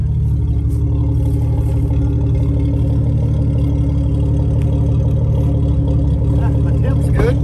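An old Jeep engine idles close by with a loud, steady low rumble and even rhythmic pulsing throughout, with no break in the running.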